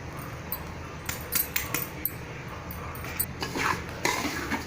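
Rava ladoo mixture with cardamom powder being stirred in a pan, soft gritty scraping strokes with occasional clinks of a spoon against the metal, close and fairly quiet.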